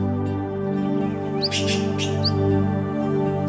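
A few short, high bird chirps over a steady droning hum, with a brief burst of rustling noise midway.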